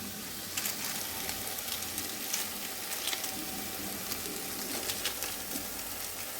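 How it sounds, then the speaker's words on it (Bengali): Spices for chana masala fry in a pan with a soft, even sizzle and faint crackle, steady and close with no talk. "মশলাটা দেখুন হালকা ফ্রাই হয়ে আসছে।"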